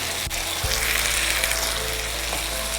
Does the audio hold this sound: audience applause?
no